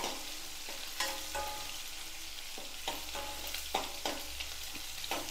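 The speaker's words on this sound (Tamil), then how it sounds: "நல்லா பாதி அளவு வதங்கட்டும்" Onions sautéing in a pan for a spicy dried-chilli chutney, a steady close sizzle and fry hiss with intermittent stirring scrapes and clinks of a spoon against the pan, no voices.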